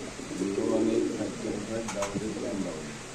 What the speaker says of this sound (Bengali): চলে আসলাম আমাদের প্রাণপ্রিয় আদনান ভাইয়ের কবুতর লফটে